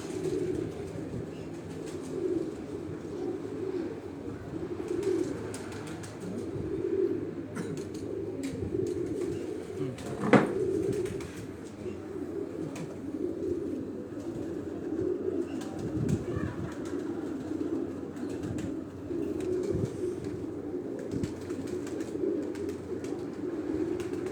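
Pigeons coo steadily on a rooftop breeding loft, a low continuous murmur of several birds close by, with a brief flutter of wings partway through.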